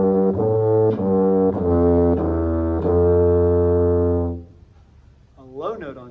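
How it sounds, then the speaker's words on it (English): A tuba, the band's largest and lowest-pitched brass instrument, plays a run of stepped notes through its typical range for about four seconds, each note rich and full, before fading into quiet with a brief voice near the end. "Typical range on the tuba sounds like this"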